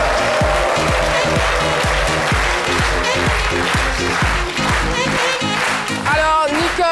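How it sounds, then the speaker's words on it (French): A studio audience applauds a guest, a specialist in African snacks, on a talk show, with a strong rhythmic beat and music playing loudly underneath, while clapping blends in across the whole stretch. "Applaudissements pour elle."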